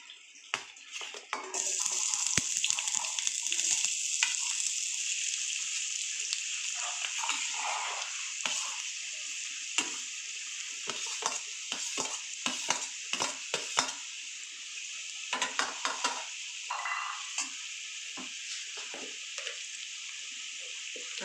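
Chopped onions hit hot oil for an egg and cashew curry, giving a loud, steady sizzle and hiss that carries on without a break, with a few scrapes and knocks from the pan.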